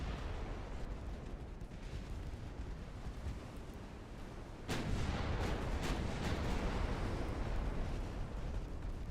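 Heavy explosions and booming hits roll continuously in a naval combat game, with torpedo detonations among them, the barrage growing louder and denser partway through as sharp blasts punch over a rumbling low roar.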